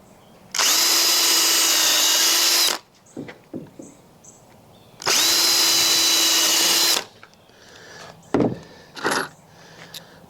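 Power drill driving 2.5-inch screws into pallet wood: two loud, close, steady whirring runs of about two seconds each, separated by a pause, followed by faint clicks and handling knocks.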